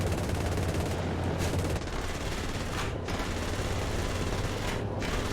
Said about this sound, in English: Let's see if we can gun him down.